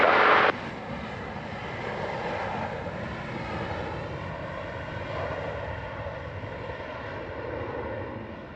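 A Boeing 737-800 airliner on final approach to runway 07 at Montego Bay, Jamaica, produces a steady, moderately loud engine drone that holds evenly throughout, preceded by a brief burst of static.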